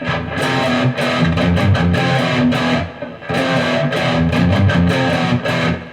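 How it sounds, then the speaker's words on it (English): An electric guitar played through a Marshall JCM 800 amplifier using only the amp's own distortion, giving loud, chunky distorted riffs in repeated bursts with brief pauses between phrases. "Amp distortion only."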